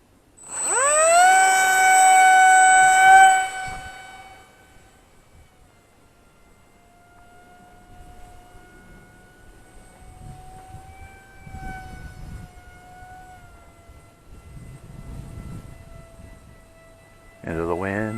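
A Glue & Fly F-22 Raptor Micro V2 RC jet launches with a loud, high whining motor for a few seconds, then fades to a faint, distant tone as it flies off, with light wind noise and a brief whine returning at the end.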